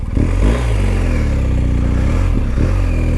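Motorcycle on a moto-camping trip heading back downhill, its engine loud and close with brief revving surges and shifting pitch over a steady rumble.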